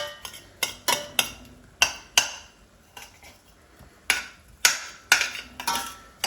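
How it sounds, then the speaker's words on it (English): A spoon stirring onions in a pan for vegan trofie alla primavera, giving a string of distinct metallic clinks and scrapes against the pan at an irregular pace, close and fairly loud, with no voices. "we're just going to give that a gentle stir"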